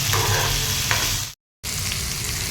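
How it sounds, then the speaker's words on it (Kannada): Tomatoes fry in a pan for an aloo curry, giving a loud continuous sizzle with occasional stirring scrapes and a brief full dropout midway, close with no voices. "ಟೊಮೊಟೊನೂ ಕೂಡ ಚೆನ್ನಾಗಿ ಫ್ರೈ ಮಾಡ್ಕೋಬೇಕು"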